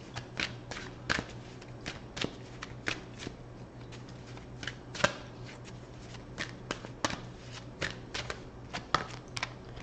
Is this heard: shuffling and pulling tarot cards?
yes